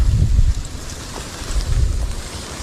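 Steady wind rushes and buffets against the microphone at an outdoor fishing spot, with low rumbling gusts swelling and fading throughout.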